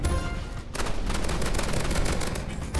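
Rapid automatic gunfire from a Roblox Rivals shooter match, a dense continuous burst of loud shots that briefly dips then resumes, with a low rumble underneath and no talk.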